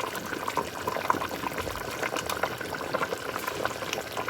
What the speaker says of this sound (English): So I'll let it simmer for about a few more minutes, and then I'll turn it off and serve the family.